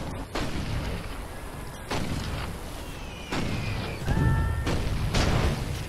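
Tanks and artillery in the World War I strategy video game Toy Soldiers, a series of loud booming blasts and explosions at irregular intervals, with faint whistling tones between them.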